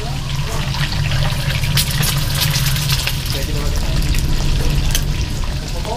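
Mackerel and eggs frying in a pan give a steady, dense sizzle and crackle that runs unbroken through the whole stretch, with voices faintly underneath.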